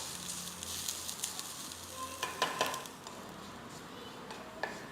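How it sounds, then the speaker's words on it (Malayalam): Grated coconut fries in coconut oil in a pan, a soft close sizzle with a few spatula scrapes and taps stirring it, fairly quiet. "നല്ലൊരു ബ്രൗൺ കളർ ആവുന്നതും വരെ തേങ്ങ വറുത്തെടുക്കാം."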